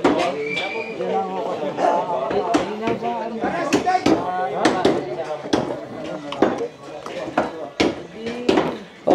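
Meat being chopped with a sharp knife at a christening feast in Batangas, with rapid repeated thudding chops on a board amid busy overlapping talk and crowd noise.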